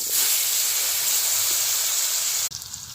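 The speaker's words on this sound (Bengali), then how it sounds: "এবার আমি আলুগুলো ভেজে নেব।" Potatoes frying in hot oil in a wok give a steady, close hissing sizzle that runs unbroken, then drops suddenly to a quieter, uneven crackle near the end, with no talking.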